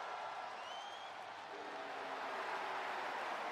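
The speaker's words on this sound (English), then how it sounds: "To seemingly boos from the crowd." Wrestling arena crowd booing after a long, grinding match, a loud, sustained wall of broadband crowd noise with no break across the whole stretch and no individual voices standing out.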